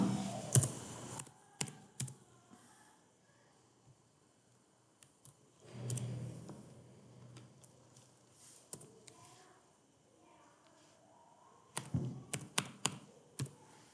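Computer keyboard typing while entering figures into an Excel spreadsheet: scattered bursts of quiet key taps near the start, middle and end, with sparse clicks in between and no talking.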